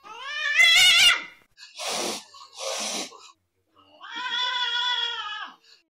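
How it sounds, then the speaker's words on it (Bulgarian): An angry cat gives loud, drawn-out meows and yowls, two harsh strained cries in the middle and a long wavering final wail, each separated by short silences. "А когато котката ядосана прави..."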